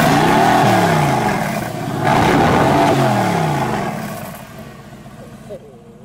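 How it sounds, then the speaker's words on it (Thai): A Mercedes-AMG GT C Roadster's V8 biturbo exhaust revs loudly up close in repeated swelling pulls before settling back, with a voice speaking briefly over it. "เรามาฟังเสียงท่อของเจ้า Mercedes AMG GTC V8 by Turbo"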